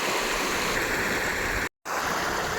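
A river beside a resort rushes continuously, a steady broadband roar of flowing water, close and even, briefly cut out for a moment.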